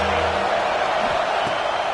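A stadium crowd in the college football video game NCAA 26 roars steadily as a defense faces a big third down, a dense, loud wash of cheering with no pauses.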